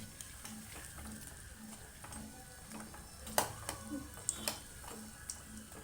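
A bonda snack frying in hot oil gives a soft, steady sizzle at low volume, with scattered light clicks and taps of utensils on the pan rising briefly near the middle.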